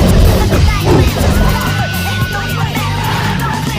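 Cars racing and drifting in the film Fast & Furious: Tokyo Drift: loud, close engine roar with sustained tire squeals and skidding sweeping up and down, plus a brief shout.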